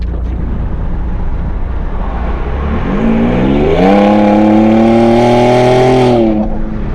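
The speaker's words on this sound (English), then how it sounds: "that sounded pretty menacing for a twin-turbo 6-cylinder engine" A Ford F-150 EcoBoost twin-turbo V6 with an aFe Rebel exhaust idles with a low rumble, then revs up hard into a loud, rising exhaust roar that holds before dropping off.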